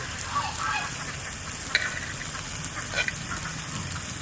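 Onion frying in hot oil with fatty duck meat for a duck curry, a steady close sizzle with a few brief stirring clinks and no talk.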